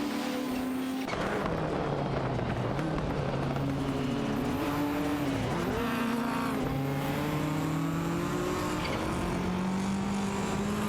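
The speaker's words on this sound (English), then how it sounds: "and Wauxi B in the Nissan Skyline, GTR R32, are battling it out with Aetion 1792 and ISI 1212 in the Ford Sierra RS 500 for 5th place" Race cars, among them a Ford Sierra RS 500 and a Nissan Skyline GTR R32, compete in a video game race, their engines droning loudly and continuously with rising and falling revs as they shift gears.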